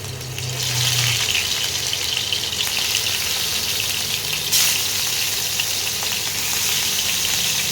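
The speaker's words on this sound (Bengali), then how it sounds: "মাছগুলোকে ভেজে নিচ্ছি।" Pieces of catla fish fry in hot oil at home with a steady, dense sizzle. A brief low hum sounds at the start and a louder crackle comes midway.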